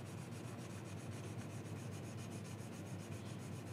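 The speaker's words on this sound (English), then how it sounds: "hold the sandpaper up against it, and it doesn't really require any work on your part, and you get a really nice finish" Fine sandpaper rubs steadily against a T-800 endoskeleton arm part, a soft, even rasping in quick back-and-forth strokes, close up but quiet, with no talking.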